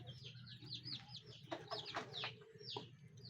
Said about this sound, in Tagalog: Ito yung mga sisyo.